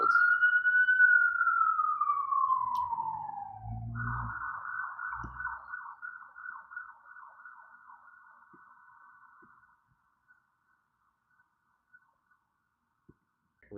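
A siren wails, first in a long falling sweep, then a rapid warbling yelp, fading away into near silence with a few faint clicks.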